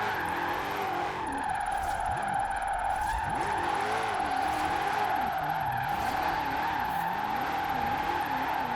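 A car drifts in the video game Forza Horizon 4 with no drift suspension, its tires squealing in long wavering howls over a constant high engine drone that holds steady throughout, with no talking.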